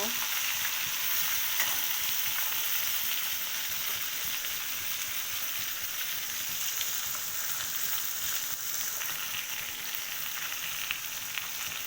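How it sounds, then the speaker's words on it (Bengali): Rohu fish pieces frying in oil in a pan, a dense, continuous crackling sizzle held at an even loudness for the whole stretch, close by and alone. "মাছটা উল্টিয়ে দিচ্ছি আমি একটু হালকা করে ভেজে নিব"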